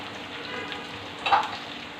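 Okra (bhindi) fries in a pan over lowered heat with green chillies, making a soft continuous sizzle and crackle, with a brief louder burst of spattering near the end.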